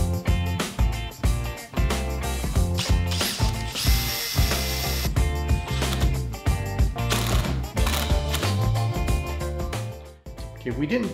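A power drill whirs and ratchets in repeated bursts close by, drilling brackets into a closet frame, with a person talking over the mechanical grinding.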